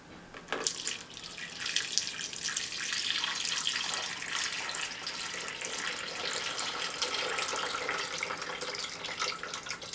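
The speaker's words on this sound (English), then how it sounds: "I'm going to pour the rest of the water in the basin" Water pours and splashes steadily out of a basin used for scrubbing shells, a continuous rushing stream that starts abruptly and runs for several seconds.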